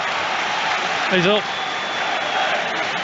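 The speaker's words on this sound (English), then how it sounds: "clapping, cheering." Football stadium crowd at a Chelsea v Real Madrid Champions League match, applause and cheering as a steady broad wash under a radio commentator's continuous talk, with a brief swell in the middle.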